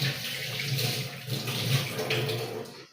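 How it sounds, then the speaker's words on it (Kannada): Hands are washed under a running tap at home while making lemon juice, giving a steady close splash and gurgle of water that shifts slightly as the hands move, then cuts off at the end. "ಕೈ ತೊಳ್ಕೊ"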